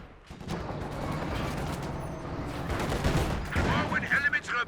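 Sustained gunfire from a machine gun in the World War II strategy game Company of Heroes 2, a steady crackling rattle of mid-level loudness that grows busier toward the end, mixed with general battle noise.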